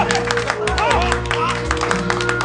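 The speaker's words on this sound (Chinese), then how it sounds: "来，鼓掌！" A group of men applauds on request at a rowdy gathering, scattered claps under cheering voices and steady background music, fairly close and busy.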